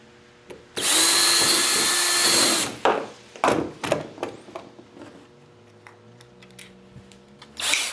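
A power drill drives screws into wood for a homemade media blasting cabinet: one loud sustained whir of about two seconds, then clattering handling knocks and small taps at close range.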